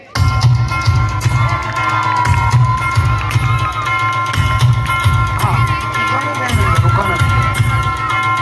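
Crowd at a Paithani prize-giving game show for women cheers and claps for the first-prize winner, loud and continuous throughout, with whoops and voices mixed in and a steady low hum underneath.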